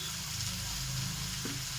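Curry with green chili, ginger and salt frying steadily in a pan with a continuous sizzle and occasional stirring scrapes, close and alone.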